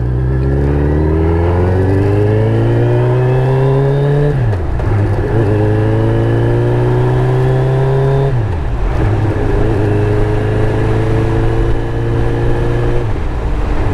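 A Suzuki Hayabusa motorcycle cruises at night, its engine loud and close, rising in pitch through three gear pulls with brief dips at each shift.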